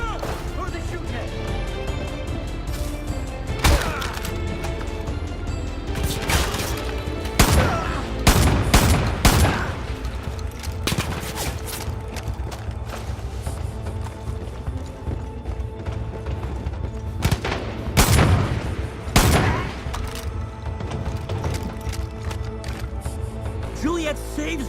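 Gunfire breaks out in the video game Far Cry 5, with scattered sharp shots and brief volleys over a busy game soundscape, moderately loud, while a person talks throughout.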